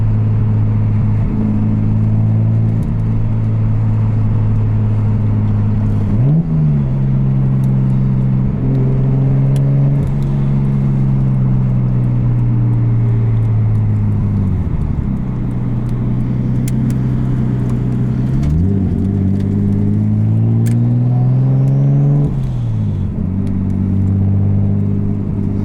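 A 1993 Nissan R33 GTST heard from inside the cabin while driving: a steady engine drone climbs through the revs and drops at each gear change, repeating several times, loud and continuous.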